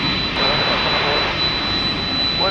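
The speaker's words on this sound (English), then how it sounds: "A turn of the century Airbus A320." A turn-of-the-century Airbus A320 jet airliner, an American flight arriving at DFW at night, gives off a steady, loud broadband jet roar with a thin high whine running through it.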